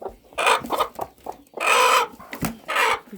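Chickens cluck loudly and close by in repeated bursts, with short pauses between the calls and no talking.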